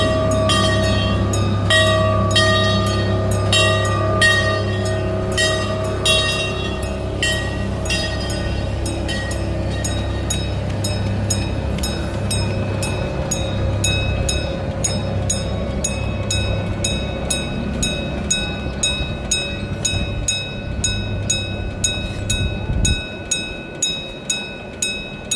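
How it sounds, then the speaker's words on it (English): An amusement park train at Six Flags Great America rolls past steadily, its wheels clicking in a regular clickety-clack over a low rumble, with no talk. "The train that isn't running today happens to be coming by right now."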